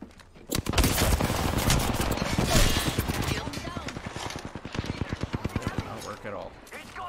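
Rapid bursts of gunfire in the shooter game Apex Legends, dense fast volleys close up and loud, running almost continuously for several seconds before thinning out, with game sounds layered in.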